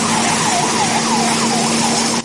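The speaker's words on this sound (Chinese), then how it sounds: "救护车在一旁待命" An ambulance siren wails in a continuous rising-and-falling cycle, loud and close, at the scene of a car fire on a highway at night, with a steady background drone.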